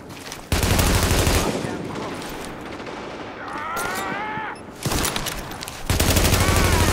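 Heavy gunfire from The Division erupts in dense loud bursts of rapid automatic fire, dropping away briefly in the middle for a chirping electronic tone before the shooting resumes just as fiercely.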